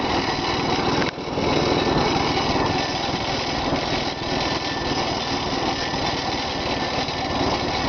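The small engine of an old Pony tractor runs close by at a constant, rattling drone, with a brief dip in its steady chug.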